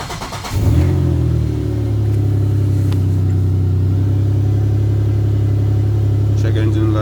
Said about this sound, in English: So I'm gonna go start the car.